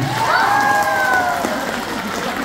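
A live audience bursts into loud, sustained applause for a Dream Team at a Healthy Living Nepal success event, the dense clapping steady throughout with a faint whistle-like tone rising over it early on.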